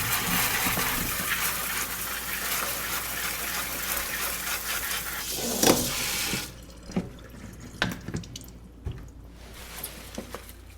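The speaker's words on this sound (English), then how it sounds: "you want to thoroughly wash your potatoes." Potatoes are washed under a running kitchen tap, a loud steady gush of water for several seconds that stops abruptly, followed by scattered drips and wet handling squishes.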